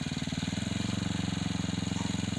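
A small engine-powered watering machine (a Gambior machine) used for planting odot grass runs steadily nearby, its engine pulsing in a fast, even chug with a rough, buzzy drone.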